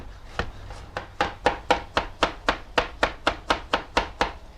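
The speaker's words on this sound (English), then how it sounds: "So I'm just gonna run my knife, rough chop through all of them." A knife rough-chops vegetables on a cutting board for Thai lettuce wraps in about fourteen crisp, evenly spaced strokes, close and loud with no talking.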